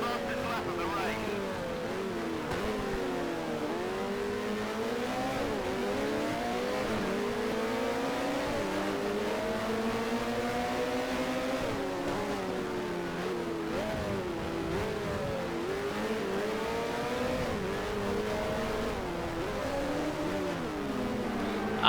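A Formula One race car engine in a racing video game runs at high pitch throughout, its revs climbing and falling through gear changes and corners, loud and steady with no pauses.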